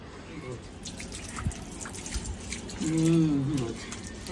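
Water is poured at home by a child helped by family, a soft splashy trickle with a few drips, under and between voices talking nearby.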